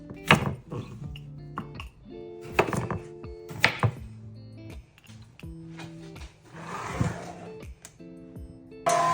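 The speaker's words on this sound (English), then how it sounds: "So I started by cutting up some potatoes." A knife chops unpeeled potatoes on a board, giving a steady run of firm thunks and taps, close and clear, with light music playing underneath.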